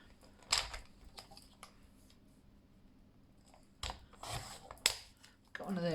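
Scissors cut a paper ticket at a craft table, giving a few quiet separate snips with pauses between them and a rustle of paper at the end.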